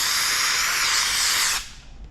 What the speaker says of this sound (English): We're gonna get a little bit more steam on it.